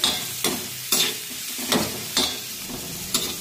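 Sliced onion sautéing over medium heat in a pan for a spicy chicken curry, turned until golden brown: a regular series of spatula stirring strokes scraping through a soft background sizzle, close and without talk.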